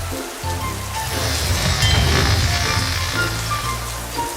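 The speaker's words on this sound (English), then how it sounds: "Uh-oh, is that rain?" Rain falls steadily in a toy play setting, a dense continuous patter that swells slightly in the middle and holds throughout, with no voices.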